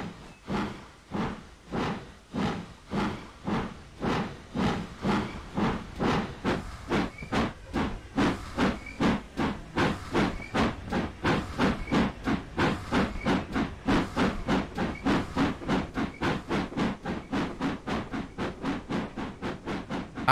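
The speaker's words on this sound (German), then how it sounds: "wir schauen jetzt mal hier zu, wie der Zug hier rausfährt" GWR steam autocoach train departing in Train Sim World 2022, giving loud rhythmic chuffs of hissing steam that start slow and quicken steadily into a fast, even beat that continues throughout.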